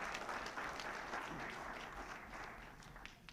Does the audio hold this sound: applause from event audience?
yes